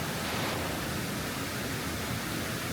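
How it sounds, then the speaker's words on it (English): Pala U Waterfall in Kaeng Krachan National Park, a steady roaring rush of falling water, dense and unbroken from start to finish, fairly faint and without voices. "Pala U Waterfall, Kaen Krachan National Park."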